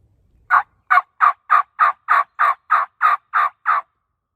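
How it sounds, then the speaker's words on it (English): A wild turkey gobbler on a Michigan public-land ridgetop sounds off with a rapid series of about eleven loud, evenly spaced gobbling notes, clear and close with no talk. "I think this turkey was in this bottom gobbling. He was gobbling my whole way over here."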